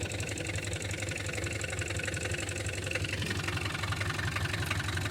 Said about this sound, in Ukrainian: працює броньовичок, тарахтатить